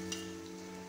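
Mustard seeds and cumin spluttering in a few spoonfuls of hot oil in a kadhai: a faint, steady frying crackle over a low background hum, lasting under a second.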